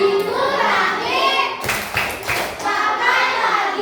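A classroom of children chants a rhythmic lesson rhyme in unison, broken midway by a quick run of sharp hand claps before the chanting voices resume.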